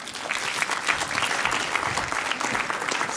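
Lively audience applause for a speaker on stage at a talk, many hands clapping in a close, steady burst that holds throughout.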